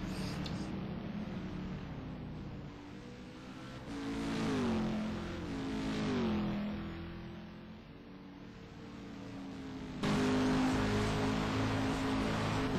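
Race cars circling Daytona in an STC Black Cup round give a continuous engine drone that swells and dips as the pitch rises and falls, with a louder surge near the end and no talk.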